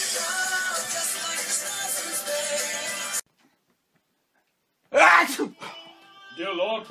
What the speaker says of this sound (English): Dear Lord, please help this man recover from this horrible sneeze